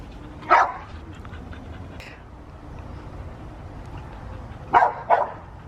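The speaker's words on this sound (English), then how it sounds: "I gave her water, but she just keeps barking." A dog barks near the camera: one sharp bark, a soft one, then a quick double bark near the end, over low background noise.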